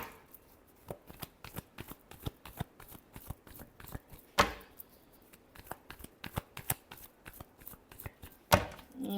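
Tarot cards are shuffled by hand in a steady run of crisp, close riffling flicks, with two louder snaps midway and at the end, and no voices.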